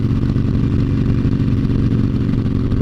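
A 2016 Harley-Davidson 883 Iron motorcycle engine lugs along in top gear, a loud, close, steady low rumble with a throbbing pulse and no break throughout.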